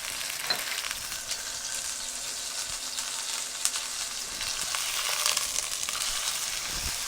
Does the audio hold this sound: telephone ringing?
no